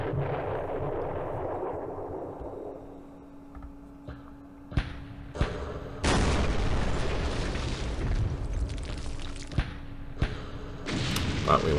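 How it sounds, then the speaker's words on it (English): Artillery fire and explosions in the war game Campaign Series Middle East: a string of sharp booms and bursts, several sudden loud blasts each followed by rumbling decay, with a low steady hum under them. "All that artillery, no joy."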